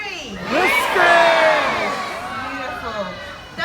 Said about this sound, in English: I want everyone to yell out whiskers for me